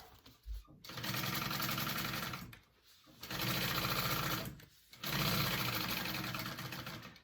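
A sewing machine basting a seam on a crossbody bag with foam interfacing runs in three steady bursts, each a rapid mechanical whir separated by brief pauses, close and clear.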